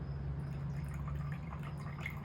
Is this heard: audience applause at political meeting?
no